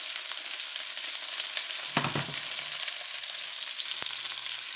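Shrimp and cashews sizzle steadily in a pan over low heat, a continuous broadband frying hiss with a brief stirring clatter around the middle and no talking.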